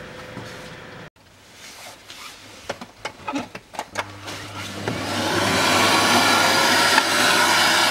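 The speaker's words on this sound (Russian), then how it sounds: "Ладно, возьму пылесос, маленько" A vacuum cleaner sucks debris from around the engine air filter of a 2011 Nissan Juke 1.6 during an oil and filter change. A steady, loud whirring drone starts partway through and runs to the end, after a few scattered clunks and handling noises.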